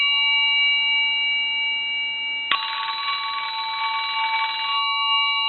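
After a sustained chime tone, a Western Electric telephone bell ringer in soft ring mode starts a gentler rattling ring that runs about two seconds and fades out. It is close, steady and heard without speech.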